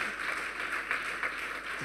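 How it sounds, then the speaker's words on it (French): A church congregation clapping as an offering to Jesus Christ at a revival service, with steady, sustained applause from many hands throughout. "Clap offering to Jesus Christ."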